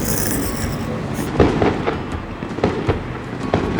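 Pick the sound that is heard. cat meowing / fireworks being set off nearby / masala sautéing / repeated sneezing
fireworks being set off nearby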